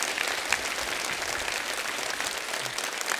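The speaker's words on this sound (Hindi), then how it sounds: "इन चारों नौजवान सिंगर्स के लिए जोरदार तालियां हो जाए।" A studio audience at a Hindi comedy show applauds four young singers with loud, dense and sustained clapping that fills the whole stretch without pause.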